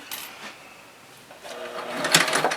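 Close up, a sewing machine stitches stretched elastic onto the back of a loungewear pants waistband, starting with a faint whir and light clicks, then rising into a louder, brief burst of mechanical stitching.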